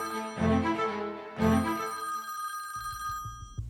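A telephone rings in a house at about three in the middle of the night, two loud bursts of ringing with a pause between them, followed by faint low knocking or handling noises.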